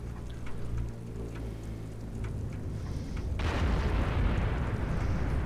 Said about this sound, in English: I just heard tank sounds.